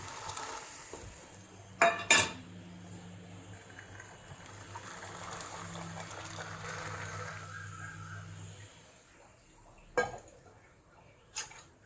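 Green peas pour into a pot of boiling water with a clatter of metal, followed by quiet bubbling and a few sharp clanks of utensils against the pot.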